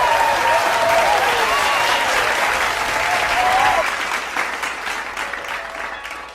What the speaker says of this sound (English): round of applause for us getting a bag